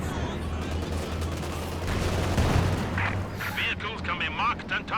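Panzerwerfer and Katyusha rocket barrages in the Company of Heroes 2 game land in a rolling stream of booms and crackling blasts, with someone commentating over the distant, sustained artillery fire.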